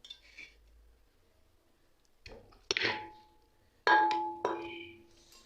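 Raw meat dropped into a pressure cooker in a home kitchen, heard as a few distinct clattering, clinking impacts of metal and meat against the pot, fairly close, with quiet pauses between.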